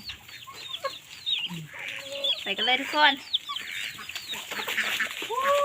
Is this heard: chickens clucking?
yes